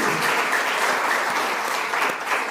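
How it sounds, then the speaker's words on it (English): Dense, steady applause from an audience greeting a speaker at a talk on under-utilised crops, a continuous wash of many hands clapping at even loudness with no voices heard. "Let's welcome him with a hearty clap."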